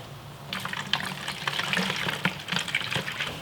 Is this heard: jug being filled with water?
yes